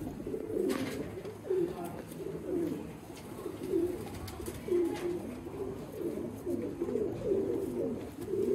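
Soft, repeated cooing of fancy pigeons in a loft, several overlapping calls in a steady rolling rhythm, close by, with faint background noise.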